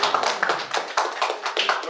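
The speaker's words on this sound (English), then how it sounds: "There's a standing ovation for him." Standing ovation applause at a Bridge Club special leadership and celebration event, a room of hands clapping loudly in uneven surging waves with a sharp, tapping texture.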